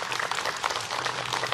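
An audience at an Islamic religious talk show claps for a preacher. The clapping is steady and moderately faint, with no talk over it.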